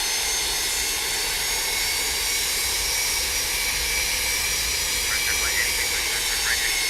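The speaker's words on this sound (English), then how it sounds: "Nice takeoff there, man" MD80 jet airliner taking off in a flight simulator: a loud, steady, unbroken turbine roar with a broad whine, holding at full power throughout.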